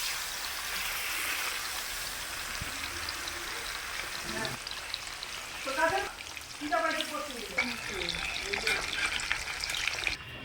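Water poured into a frying spice masala for a fish curry, with a steady sizzle giving way to bubbling, gurgling hiss as the liquid hits the hot pan, close and moderately loud.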